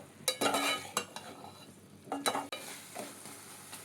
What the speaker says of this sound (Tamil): இப்போ மாங்காய் சேர்த்த பிறகு ஒரு 2 நிமிஷம் இந்த மசாலா கூட சேர்த்து நல்லா வதக்கிக்கலாம்.